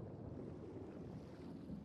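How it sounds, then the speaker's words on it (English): Faint, steady storm wind roaring over a rough sea in a One Piece anime scene, a continuous low rushing noise with no voices. "it's a storm"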